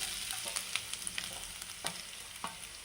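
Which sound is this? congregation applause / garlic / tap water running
garlic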